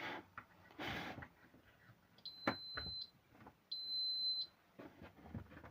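An electric kettle base, a Laretti LR-7500 under repair, emits two sustained electronic beeps, each about a second long, close and clear, amid soft handling clicks and taps; its buttons do not respond.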